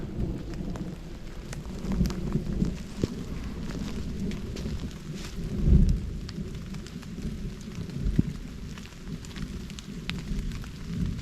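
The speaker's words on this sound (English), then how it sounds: "I think that's just thunder" Low, rumbling thunder rolls under steady rain, swelling into a louder distant boom midway and again later, with rain pattering throughout.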